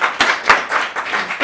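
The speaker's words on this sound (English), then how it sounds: "A round of applause, please." A small live-TV audience at a Winter Wonderland event claps in a handful of distinct, fairly close hand claps with uneven rhythm, brief and light rather than a full ovation.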